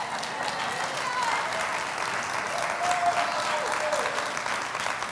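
An audience applauds weakly, a thin, even patter of scattered clapping that carries on steadily for several seconds at moderate loudness without building or swelling.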